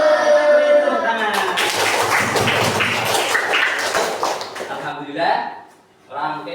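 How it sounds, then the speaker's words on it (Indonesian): A classroom of students claps hands together briefly after a lesson, a short cluster of clapping and taps over voices, tailing off into speech. "Tepuk tangan"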